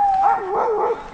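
A sled dog on the Iditarod Trail gives a close, clear, whining yelp that rises and falls for about a second, with nothing else heard around it.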